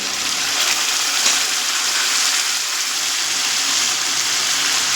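Water poured from a spice bowl into a pan of frying turmeric and spice paste while cooking elephant-foot yam chicken, a steady loud gushing, splashing wash over sizzling that continues for the whole stretch without a break.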